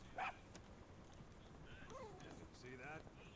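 A dog barks in Metal Gear Solid V, a short sharp bark at the start followed by a few fainter yips, heard under a voice.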